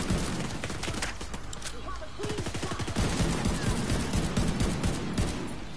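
Gunfire in a video game as fast, close bursts of shots crackle almost continuously, with a brief quieter gap and rapid automatic fire resuming loud and dense under game voices.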